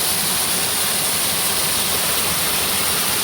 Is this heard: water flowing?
yes